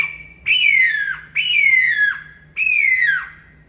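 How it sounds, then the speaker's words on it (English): A hawk call whistle blown as a turkey locator gives three loud, shrill, high-pitched screams, each sliding downward and lasting under a second, separated by short pauses, close and alone with no talking. "I use it as a hawk call, that high-pitched shrill sound that you don't even hear"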